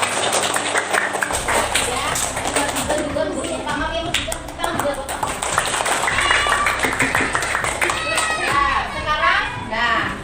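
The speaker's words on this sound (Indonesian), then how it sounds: "Tepuk tangan buat Asih." Children in a primary classroom clap together for a classmate, a close, busy burst of hand claps mixed with a teacher's and pupils' voices.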